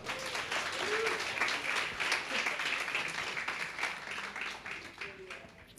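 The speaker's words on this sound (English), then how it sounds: "Big round of applause for Olaf." Applause from an audience at an angel investor and founder pitching event in Indonesia as a founder takes the stage. Dense, steady clapping fills the room at a fairly low level, with faint voices mixed in.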